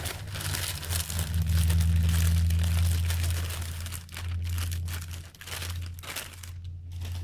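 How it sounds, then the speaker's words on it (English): Crinkling and rustling of a plastic cake mix bag being cut open and emptied into a bowl, close and continuous with a low hum underneath and a few sharper crackles near the end. "we're going to take the cake mix out of here. I'm just going to cut it open and put it in the bowl."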